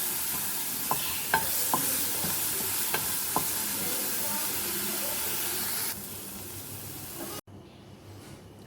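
Chopped onion and green chili fry in butter for a chicken bread filling, making a close, hissing sizzle broken by a few light utensil clicks. The sizzle drops in level near the end and then cuts off almost completely.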